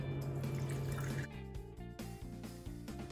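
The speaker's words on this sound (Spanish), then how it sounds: "si es seca ponen el polvito así en un bowl y la vamos a disolver con el agua tibia." Warm water poured into a bowl to dissolve yeast for homemade sweet bread (panettone): a continuous liquid trickle and splash, close and fairly quiet, with background music underneath.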